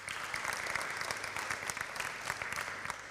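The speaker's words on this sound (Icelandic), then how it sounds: "Það má alveg klappa fyrir" Congregation applauding the organist during a church service, a sustained patter of many hands clapping at moderate volume, heard alone without speech.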